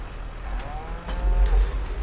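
Cattle in the video game Farming Simulator 22 give a deep, drawn-out moo and a second lower bellow close by, loud and clear over faint background ambience.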